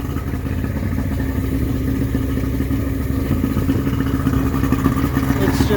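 A Mercury 40 hp two-stroke outboard motor idles with a steady, low, buzzing drone and some mechanical clatter, running evenly at close range with no change in pace.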